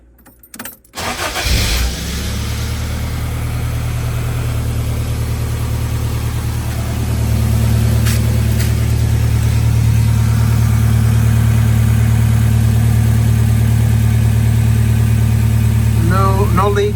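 A Toyota AE86 with a newly installed SARD catalytic converter cranks briefly, catches and settles into a loud, steady idle that rises slightly in pitch partway through, with no talk.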